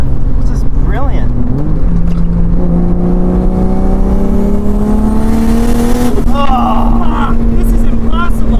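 A 1977 Toyota Celica Liftback with a swapped 1JZ engine drives along, the engine note climbing steadily as it pulls in gear before a shift, loud and close from inside the cabin, with people talking over it.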